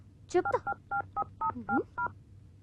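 Telephone keypad tones ring out as a number is dialed, eight or so short, evenly spaced beeps following a brief burst of voice, fairly close over a low background hum.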